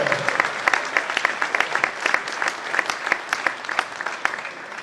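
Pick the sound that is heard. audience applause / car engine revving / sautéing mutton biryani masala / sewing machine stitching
audience applause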